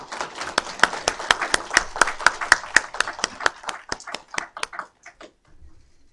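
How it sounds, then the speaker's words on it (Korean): An audience applauds at a university agreement-signing ceremony with a brisk, fairly even run of close, crisp claps that thins out and fades to silence near the end. "함께 오신 분들 손뼉으로 축하해 주시기 바랍니다"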